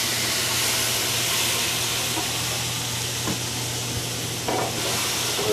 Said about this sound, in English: we're going to deglaze the pan with some white wine.